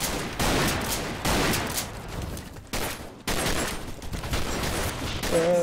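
Rapid bursts of gunfire from the Half-Life 2 mod game Double Action: Boogaloo, loud, dense volleys of shots broken by brief pauses.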